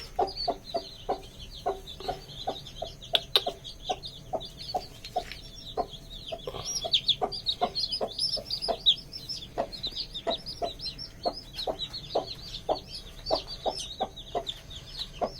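A white hen clucks in a steady, repeated rhythm while her fourteen newly hatched chicks peep in high, rapid chirps throughout, close and continuous.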